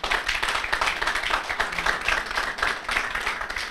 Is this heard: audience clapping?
yes